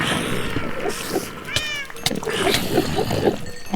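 Cat meowing in the game Minecraft, several short mews spaced across a few seconds, fairly close and clear over a steady background hum.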